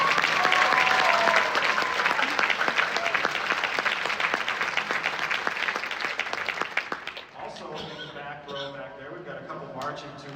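An audience at a TUBA Christmas concert in Eastman Theatre, Rochester, NY, gives a big round of applause for the sousaphones, dense clapping that fades out as a voice takes over on a microphone.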